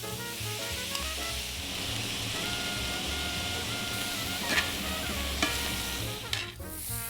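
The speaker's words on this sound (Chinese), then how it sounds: "肉段炒到表面变色，洋葱和彩椒段炒软，牛肉回锅" Beef pieces stir-frying with onion and bell pepper in a hot pan, a steady broadband sizzle with occasional spatula clinks and scrapes, close and continuous.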